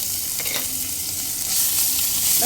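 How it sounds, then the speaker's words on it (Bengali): Crushed ginger and green chilies frying in hot oil, a close bright sizzle swelling slightly as they are stirred, with a couple of light utensil taps, no talk. "কয়েক সেকেন্ড একটু নেড়ে নেব"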